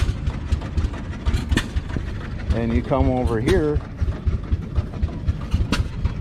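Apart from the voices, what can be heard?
gas-diesel engine running at a thresheree show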